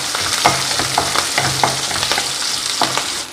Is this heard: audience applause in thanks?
no